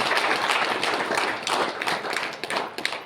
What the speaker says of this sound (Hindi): एक बार चाहूंगा जोरदार ताली बजा दीजिए